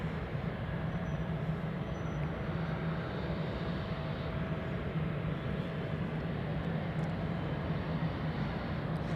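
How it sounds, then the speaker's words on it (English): Jet aircraft taking off at Anchorage airport, Alaska, with departures from runways 15 and 24: a steady, broadband engine roar, continuous and moderately distant, holding an even level throughout without pauses. "We have the takeoffs on runway 15, and we also got takeoffs on runway 24 left right next to us."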